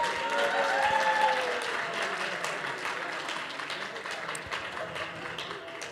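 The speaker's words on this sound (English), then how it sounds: "Give this young lady a big round of applause" An audience at a charity auction claps in sustained applause, loudest at the start and slowly thinning, with a voice speaking briefly over the crowd early on.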